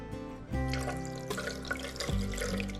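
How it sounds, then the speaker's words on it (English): Vinegar is poured into the liquid drained from a fermented pepper mash, a steady close trickle and splash with a tonal gurgle that shifts as the pour continues, with no talking. "Now I'm going to add a little vinegar to it that will help stop the fermenting process."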